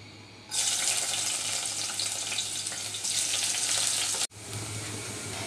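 A loud, steady sizzle of onion and chopped garlic frying in hot oil starts abruptly and continues, briefly cutting out before resuming.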